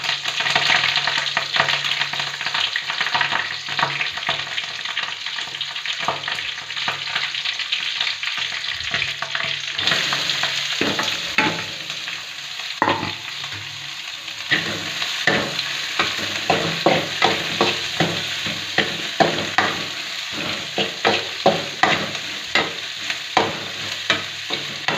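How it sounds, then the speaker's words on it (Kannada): Curry leaves crackle in hot oil for a tempering in a home kitchen. A loud, continuous sizzle runs throughout, with spatula clatter and sharper spitting pops growing denser later on. "ಎಣ್ಣೆ ಕಾಯಬೇಕು. ಕರಿಬೇವು ಸೊಪ್ಪು ಹಾಕಿ"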